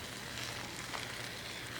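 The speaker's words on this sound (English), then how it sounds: "you can hear the sizzle of the clay pot with the meat in it" Brisket and fennel sizzle in a clay pot for a tagine, a steady, close, fairly quiet crackling hiss that holds evenly throughout with no talking.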